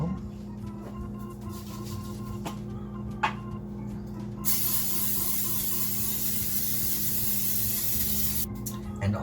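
Cooking spray hissing onto a muffin pan in one long, steady burst of several seconds, preceded by faint clicks and handling noise at close range.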